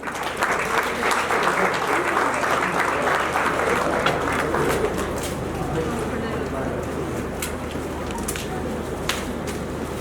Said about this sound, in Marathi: जोरदार टाळ्या वाजवायच्या आहे.